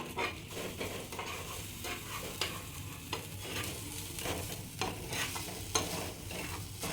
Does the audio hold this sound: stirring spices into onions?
yes